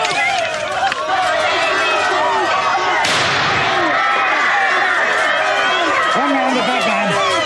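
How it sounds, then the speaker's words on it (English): A single CS gas round is fired in a scene from the 1984 film Threads. It comes as one sharp, loud burst in the middle of a noisy crowd with running feet and shouting voices. "One round, CS gas"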